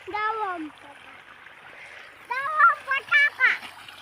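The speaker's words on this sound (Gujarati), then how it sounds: "પાણી આવે છે મોટર ચાલુ છે" Water gushes steadily from a motor pump pipe on a farm, a constant rushing splash, while a couple of voices talk over it in short bursts.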